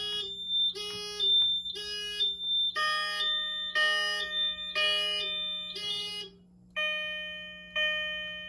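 A Simplex 4100U fire alarm system sounds after a heat detector trips, with repeated bright electronic tone blasts in a steady on-off rhythm over a low hum, the last tones longer and lower.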